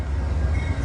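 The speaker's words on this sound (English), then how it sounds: "is train 57 of Vermonter. Coming in from St. Albans, Vermont." Amtrak Vermonter train 57 from St. Albans, Vermont pulls into New Haven Union Station, giving a steady, loud low rumble of a train rolling close by, with no talk.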